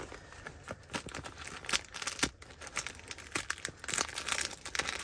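Crinkly emergency blankets and hand warmer packets being handled in a zippered pouch inside a Jeep Wrangler, giving close, irregular bursts of crackling and rustling foil.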